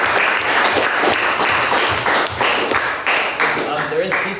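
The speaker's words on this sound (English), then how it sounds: "We'll just give a round of applause." Audience at an entrepreneurship club talk breaks into sustained applause, a dense wash of claps from a roomful of people close by, with some murmuring under it.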